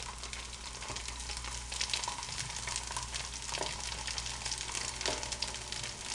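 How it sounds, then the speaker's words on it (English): Fried rice with black pepper sizzles in hot oil in an Indian Chinese fusion dish, a dense, steady crackling hiss close by with occasional stirring scrapes. "Just hear it sizzle."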